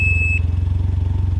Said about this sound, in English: The bike also makes that beeping sound when you put the bike in reverse.